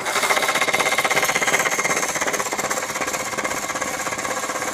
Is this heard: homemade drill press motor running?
yes